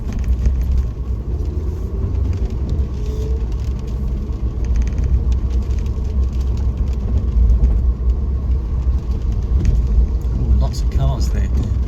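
A car drives over speed humps on a road near a doctors' surgery car park, giving a steady, loud low engine and road rumble throughout with no distinct separate thumps.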